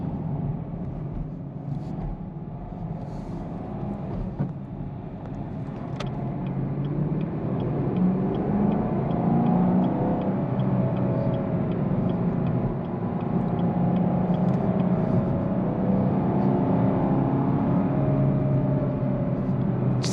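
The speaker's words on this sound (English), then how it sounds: "resonance of that V8 just revving it out. Oh my gosh, it sounds so angry." A Chevrolet Camaro LT1 V8 on the road gives a steady, deep engine rumble that swells in loudness partway through and holds a resonant drone as it revs under load while driving.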